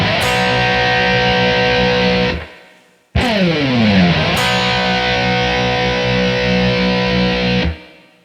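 Distorted electric guitar for a song lesson: a loud chord rings and decays, then a sliding pitch sweep rises into another sustained, heavily driven chord that holds before cutting off.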